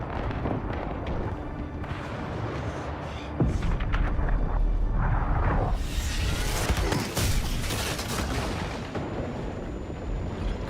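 A loud explosion in the video game Battlefield 6: a sharp boom hits partway through and is followed by a sustained roaring blast, with dense game noise continuing before and after.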